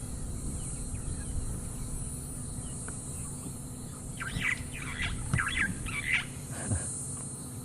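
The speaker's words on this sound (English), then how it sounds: "That's the Birchall starling, one of 5 starling species we get here." A Burchell's starling gives a short series of chirping, squealing calls over a steady background of insects and low hum, fairly distant and faint.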